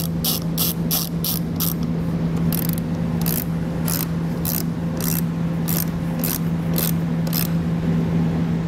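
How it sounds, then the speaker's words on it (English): A ratchet with a 12 millimeter socket tightens a battery terminal nut on a 2021 Jeep Wrangler, loud close rhythmic clicking in quick bursts over a steady background hum. "the nut of the 12 millimeter socket. Put the ring terminal over it. And just simply just tighten it back down"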